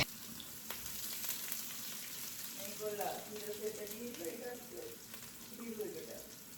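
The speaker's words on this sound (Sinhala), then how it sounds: "ඉතින් මම එකට දාගත්ත වේලිච්ච මිරිස්, අඹ ඇට, ඒ වගේම කරපිංචා ඔම ඔක්කොම දාගෙන හොඳ තෙම්පරාදුවක් කරා" Dried chillies, mustard seeds and curry leaves tempering in hot olive oil, a soft, continuous sizzle and crackle with occasional stirring, close but quiet, with faint talk in the background.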